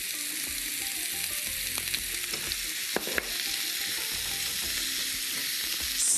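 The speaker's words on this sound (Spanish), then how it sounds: "Pimiento verde picado bien chiquitito. Pimiento rojo bien chiquitito también adentro de esta sartén." Finely chopped green and red peppers sizzle in a frying pan, a continuous close crackling hiss with a few sharp clicks and utensil knocks partway through.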